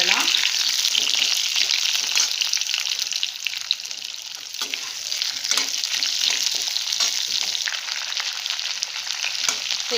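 Yellow pumpkin sautés in a hot pan, giving a steady bright sizzle with frequent scraping stirs of a spatula throughout, close and fairly loud, with no talking.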